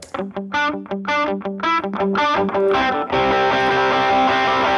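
Electric guitar plays choppy chords with a gritty, distorted tone, then rings out into a sustained, fuzzy strummed chord.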